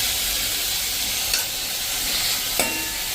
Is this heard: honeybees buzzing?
no